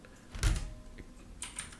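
A single soft keypress on a computer keyboard during a Blender modelling session, a brief muffled thump followed later by a faint second click, quiet and isolated with no talk.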